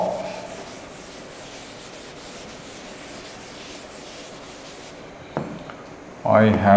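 An eraser rubs writing off a board in a classroom, a continuous soft scrubbing that runs for several seconds before a sharp knock and a voice begin.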